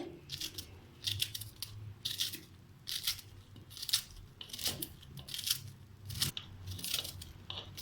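Bitter gourd chopped into small pieces makes crisp, rhythmic cutting crunches, about ten sharp strokes in quick succession, close and clear with no voices.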